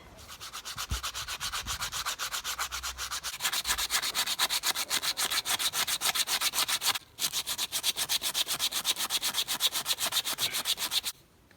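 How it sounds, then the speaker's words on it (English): Steady, continuous sanding on a hand-carved wooden spoon, close and fairly loud, with a rhythmic rasping texture that runs almost unbroken apart from a brief pause partway through. "I'm going to give it a little bit of a sand to help it along its way"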